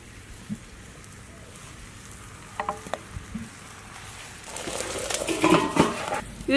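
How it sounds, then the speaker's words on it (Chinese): Hand-rolled flatbread for sauce-brushed jiangxiang bing hitting hot oil in a flat pan, with quiet crackling at first, then a louder sizzle and spattering toward the end, plus a few light clinks of utensils. "平底锅里倒点油，放入擀好的饼子"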